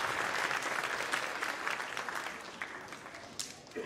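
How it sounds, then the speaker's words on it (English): An audience applauds at an all-district school orchestra concert in a high school, a broad sustained wash of clapping with some crowd noise that tapers slightly toward the end. "Give a round of applause for your children and the students that are in the family."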